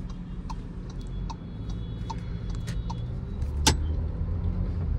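Cabin of a Volkswagen Virtus GT with a 1.5-litre TSI four-cylinder engine and 7-speed DSG gearbox as it starts to drive: a low steady engine hum under regular indicator-like ticking and one sharp click near the end.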